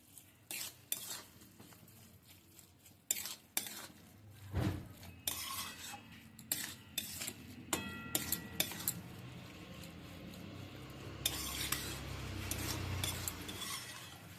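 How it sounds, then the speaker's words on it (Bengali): Spatula or spoon scraping and clinking against a pan while ground poppy seed paste and sugar are stirred into cooking spinach, with a faint sizzle underneath; repeated sharp metallic knocks and scrapes at an irregular rhythm, close up and moderately loud, with no talking. "চিনি আর পোস্ত খুব ভালো করে মিশিয়ে নিচ্ছি"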